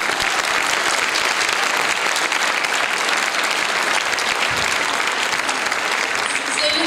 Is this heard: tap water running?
no